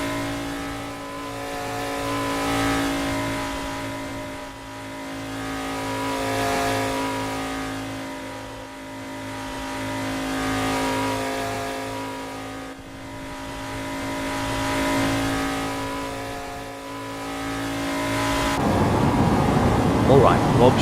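NASCAR Cup Oldsmobile race car from the 1990s lapping Daytona's tri-oval in Assetto Corsa, its engine droning steadily with waves of rising and falling pitch, a commentator's voice running over it throughout, then a rougher, louder burst near the end.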